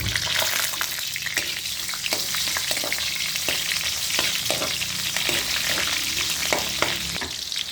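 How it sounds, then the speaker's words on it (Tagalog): Garlic and onion sauté in a hot pan, giving a constant loud sizzle broken by repeated scraping stirs of a metal utensil, with no voices. "Lagay na po natin ang ating garlic. Ilagay na po natin ang ating onion."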